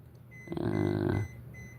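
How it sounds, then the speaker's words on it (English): A battery charger gives a short electronic beep with a buzzy, slightly warbling tone, heard once at moderate volume against a quiet room hum. "that's a battery charger beeping in there that is done"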